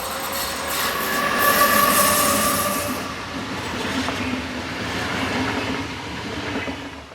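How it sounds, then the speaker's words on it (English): A Class 450 passenger train rolls past nearby with a steady rushing roar, faint wheel squeal and rail clatter, gradually fading but still audible. "The majority of these were operated by Class 450 train sets,"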